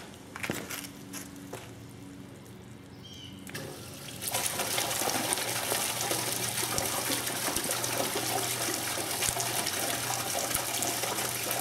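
A secondhand aquarium water pump runs in a 20-gallon tank, with steady rushing, bubbling water. The flow starts partway through and then holds loud and constant to the end.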